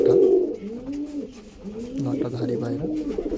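Breeder pigeons coo in a steady run of low, rolling, repeated calls, fairly close and moderately loud, filling the whole stretch with overlapping phrases.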